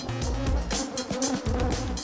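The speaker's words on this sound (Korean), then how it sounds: "잠시 후 수많은 꽃들을 돌아다니며 화분을 모은 벌이 돌아옵니다" Honeybees buzz at a hive entrance fitted with a pollen trap, a loud, dense swarm hum that swells and fades in repeated pulses as the insects fly close past.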